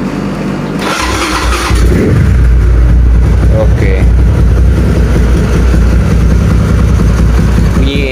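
A car engine cranks and catches after a new radiator was fitted, then settles into a steady, fairly quiet idle close by while someone speaks briefly over it.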